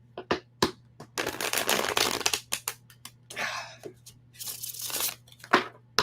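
Tarot cards are shuffled by hand in repeated papery bursts of riffling and sliding, loud and close, with short pauses between each shuffle.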